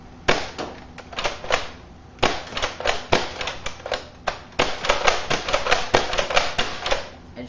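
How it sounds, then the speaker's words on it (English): A suppressed Nerf Longshot foam blaster being dry fired, giving a series of sharp, close mechanical clacks and snaps in quick irregular bursts with short pauses between volleys, and no talking. "I'm not afraid of dry firing it because of what I've got in there for a suppressor"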